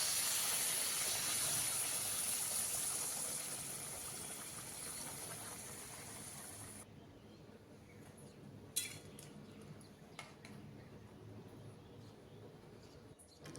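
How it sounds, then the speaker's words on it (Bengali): Hot water poured onto sautéed potatoes in a pan for aloo dum gravy gives a loud, bright hiss for about seven seconds. It then drops to a quieter simmer broken by a few sharp utensil clinks. "এবারে দিয়ে দেব ঝোলের জন্য পরিমাণ মতো গরম জল।"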